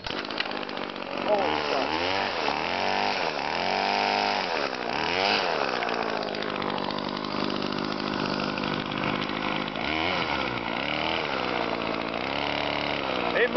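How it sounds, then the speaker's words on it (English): A Stihl FS 36 string trimmer's small two-stroke engine starts and runs loud and close, revving up and down in surges before settling into a steady buzzing drone, with a man's brief exclamation over it. "Let's go ahead and start this thing. It's a great old trimmer."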